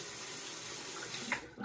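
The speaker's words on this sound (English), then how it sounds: "let me go ahead and let that water out of the sink" Water drains from a bathroom sink before a wet shave, making a steady, close rushing and gurgling flow that continues throughout and fades slightly at the end.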